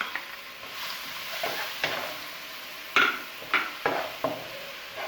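Two tablespoons of garlic paste sizzle steadily in a hot pan after onions are removed, with a spoon stirring and scraping at irregular intervals, producing several sharper clinks and scrapes over the continuous frying hiss, no talking.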